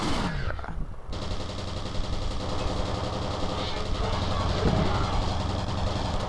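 Gunfire in the video game FEAR, with rapid automatic bursts forming a dense, continuous clatter over rumbling game noise, loud and sustained.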